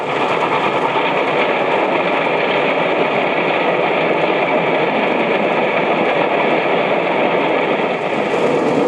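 A steady, loud rumbling roar of a Victorian S-Class steam locomotive engine running continuously, dense and unbroken throughout with no pauses.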